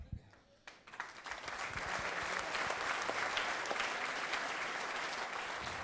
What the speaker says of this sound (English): That didn't get a lot of applause